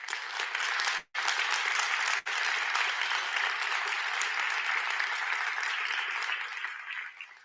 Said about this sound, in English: Now I also ask you to salute them by a round of applause.